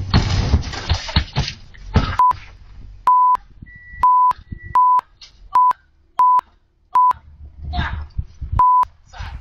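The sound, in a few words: doorbell or intercom ringing as a delivery man arrives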